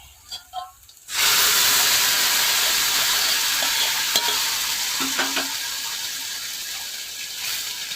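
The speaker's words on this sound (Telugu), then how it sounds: "ఇప్పుడు మనం ఉడకబెట్టుకున్న ఈ పులుసుని వేసేద్దామండి." Boiled tamarind juice hits a hot frying pan with curry leaves, bursting into a loud, steady sizzle and hiss that fades slightly over several seconds, with a few faint clinks and stirring scrapes.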